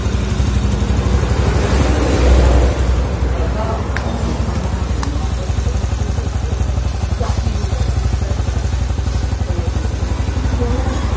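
Yamaha Jupiter Z motorcycle engine with power loss, hard idling and engine oil getting into the air box runs nearby with a steady, close putter under a voice.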